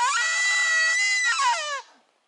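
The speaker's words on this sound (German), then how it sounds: "Das Krächzen, ich höre es!" A harsh, strained screeching cry from the legendary Tut-Ursel at the Domburg in the Hakel, held loud and steady for nearly two seconds before breaking off, with no talk over it.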